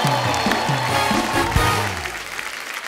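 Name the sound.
studio audience applause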